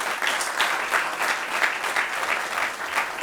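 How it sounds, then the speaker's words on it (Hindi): A theatre audience applauding after a stage play, dense continuous clapping from a crowd throughout, close and loud. "एक बार फिर से तालियां बजाएं।"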